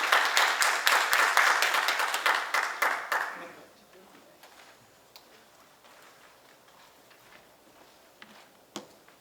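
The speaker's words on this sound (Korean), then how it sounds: "큰 박수로 맞이해 주시기 바라겠습니다" An audience at a public forum on electric-vehicle fire prevention, held in a large conference room, claps loudly for a few seconds before the applause fades out, leaving a faint room tone with scattered small knocks.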